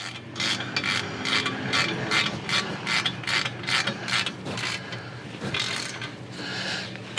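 A hand ratchet tightens 9/16 steering stabilizer bolts on a Ford Super Duty, giving repeated close clicking bursts in a steady back-and-forth rhythm with brief pauses between strokes.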